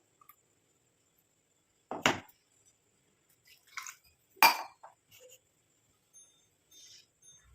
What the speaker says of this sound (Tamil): இப்போ நம்ம இந்த மாதிரி ஒரு பவுலில் இதை வந்து வடிகட்டி எடுத்துக்கலாம்